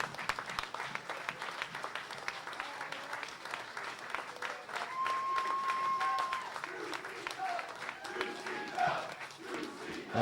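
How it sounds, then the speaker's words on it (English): Wrestling crowd applauding and cheering at the end of a tag-team match at a 2CW Nightmare Before Christmas show, a steady, dense roar of clapping with crowd noise and a few whistles throughout. "another round of applause for these four Gladiators"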